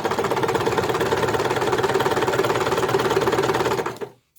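A sewing machine stitches a piped cushion cover in a fast, even, rattling run of needle strokes close up, stopping abruptly near the end.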